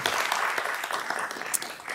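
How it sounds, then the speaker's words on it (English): Audience applause at a school board meeting for two student board members, a dense burst of many hands clapping together, loud and continuous, fading slightly toward the end. "Another round of applause for our 2 amazing student board members."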